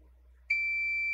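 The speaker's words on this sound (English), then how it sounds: "you can see we're getting a beep, which means that fuse is connected between here and here" A multimeter in continuity mode sounds a single steady electronic beep as its probes bridge a good fuse; the tone starts abruptly and holds clear and loud over a quiet background.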